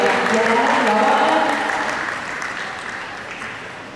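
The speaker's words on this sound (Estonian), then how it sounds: "Teeme suure aplausi" An audience at a year-end jubilee concert applauds in a dense, sustained wash of clapping that gradually fades, with a voice speaking over it.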